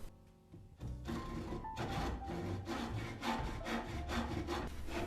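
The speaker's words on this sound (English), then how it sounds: "I'm just going to use a saw to cut off the piece that I don't need" A hand saw cuts through a wooden board in a basement, a steady run of rhythmic back-and-forth strokes after a brief quiet start, close and fairly loud with no talk over it.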